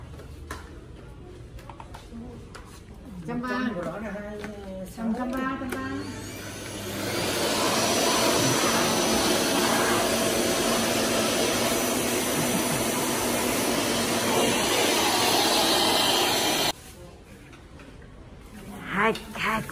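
A vacuum cleaner runs inside a supermarket shop in Bac Giang, Vietnam, a loud steady whooshing roar that starts after some background chatter, holds for about ten seconds, then cuts off abruptly.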